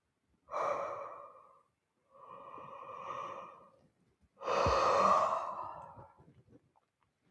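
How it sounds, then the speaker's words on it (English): A person yawns deeply during a yoga session, making three long, breathy exhalations separated by short pauses, with the last the loudest and fullest, heard up close in a quiet room. "One more yawn."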